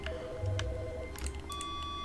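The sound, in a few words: phone going off in The Stanley Parable video game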